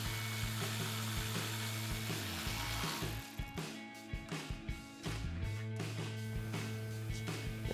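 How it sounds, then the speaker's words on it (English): A hand ratchet with a 10 mm socket tightens a brake line bracket screw on a Jeep Wrangler JK during a stainless steel brake hose install, making bursts of quick, close pawl clicks over a steady background hum. "We'll take our 10 mil socket on our ratchet and tighten this back down."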